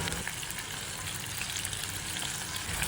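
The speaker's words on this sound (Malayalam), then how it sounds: "പച്ചമുളക്, സവാള, കറിവേപ്പില, ഇഞ്ചി എന്നിവ ചേർത്ത് ഇതൊന്ന് നന്നായിട്ട് വഴറ്റിയെടുക്കാം" Green chili, onion, curry leaves and ginger sauté in a pan for a Kottayam-style fish curry, giving a steady, close, fairly quiet sizzle of hot oil that holds level throughout with no talking.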